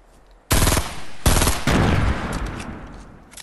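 Loud bursts of automatic gunfire from the Fortnite video game, two sustained volleys starting abruptly with a short gap between them, then a long rolling tail of rapid shots fading away, with no talking.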